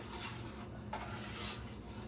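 A spoon scrapes and stirs peach cobbler filling in a pot on medium heat, giving a steady, close scraping and clinking that runs continuously without pause.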